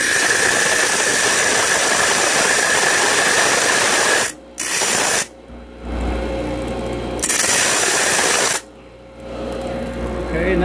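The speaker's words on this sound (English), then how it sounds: "that's basically a huge cutoff disc" Large cutoff disc grinding through a raw aluminum casting, a loud harsh continuous whine and rasp broken by several short pauses as the disc lifts off the metal.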